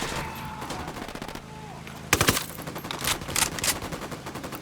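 Gunfire in Tom Clancy's Ghost Recon Wildlands: rapid automatic bursts, then a loud close volley and repeated sharp shots in quick succession, with a voice briefly audible early on.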